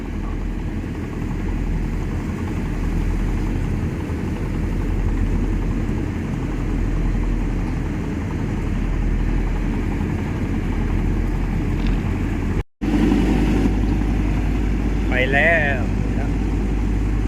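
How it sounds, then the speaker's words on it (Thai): Twin engines of a cargo barge running steadily, left and right, a continuous low rumbling drone that stays loud and even throughout, with a brief dropout near the end and faint chirping over it. "เดินเครื่องนะฮะ เครื่องยนต์สองตัวซ้ายขวาฮะ"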